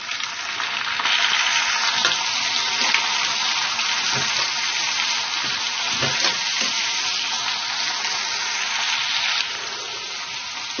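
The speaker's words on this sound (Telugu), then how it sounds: "అలాగే క్యారెట్ ముక్కలు, టమోటా ముక్కలు వేసి వేయించుకోవాలి" Green chillies, long-cut onion slices, carrot pieces and tomato pieces fry in hot oil, giving a loud, steady sizzle that runs unbroken throughout, with a few faint stirring knocks and no voices.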